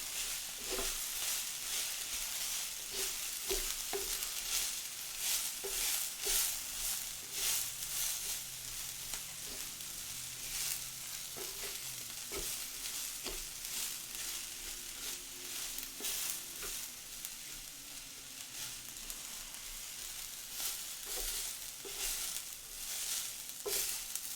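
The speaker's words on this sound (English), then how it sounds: "Here I am just trying to stir my food and not burn it" Steak fajitas fry in a pan while being stirred, a continuous soft sizzle broken by repeated scraping and clinking strokes of a utensil at an irregular pace, fairly quiet and close.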